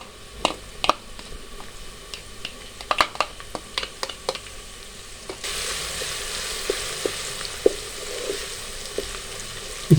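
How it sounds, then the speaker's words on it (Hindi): Browned onions sizzle steadily in a pan as garlic ginger paste is added for dhaba style aloo qeema, a constant frying hiss that swells louder midway, with scattered clinks and scraping stirs. "अब हम इसमें लहसुन अदरक का पेस्ट शामिल कर देंगे"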